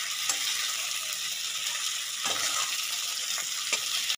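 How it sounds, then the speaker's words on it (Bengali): Eggs frying in an oiled kadai with onion for a fried onion egg omelette: a steady, close sizzle throughout with a few louder crackling bursts. "ডিমের পোচটা কড়াইয়ে দিয়ে দেবো।"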